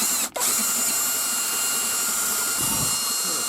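A power drill whirs steadily and loudly during a Nissan Maxima strut replacement, with a brief drop in the motor sound near the start, then continuous high-pitched running.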